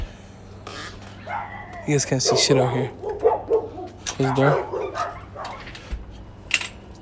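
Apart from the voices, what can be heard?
dogs barking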